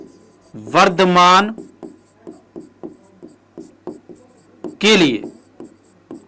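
Pen or chalk writes out a Class 12 maths solution on continuity and increasing functions, a series of short scratchy strokes in an irregular rhythm, with a voice speaking briefly between them.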